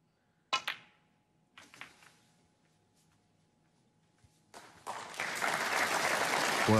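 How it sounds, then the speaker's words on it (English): After a couple of sharp cue-ball clicks in a quiet arena at the 2017 Scottish Open snooker final, an audience breaks into applause for a shot, building steadily and carrying on loudly to the end. "he got a bit of applause for this shot"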